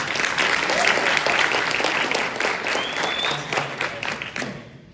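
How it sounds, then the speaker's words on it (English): An audience at a speech applauds steadily with dense clapping throughout, tapering off near the end as a voice faintly starts. "can we give one more round of applause for our two other speakers?"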